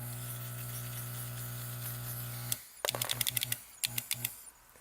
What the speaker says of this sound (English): Just kind of listening to the vacuum. It's dying off slowly